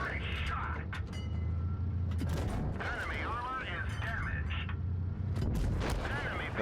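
Tank cannon shots from World of Tanks Blitz, with the T-44 and the Emil 1951 tier 8 heavy in play: a few sharp booms over a steady low engine rumble, loud and close, with game effects layered on top.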